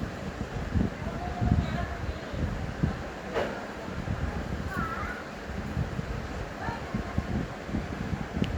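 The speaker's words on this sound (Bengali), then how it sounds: "দেখেন কিরকম বাতাস করতেছে, অনেক প্রচুর বাতাস" Strong wind on a building rooftop buffets the microphone in a steady, rumbling roar that gusts and swells throughout, with faint background sounds underneath.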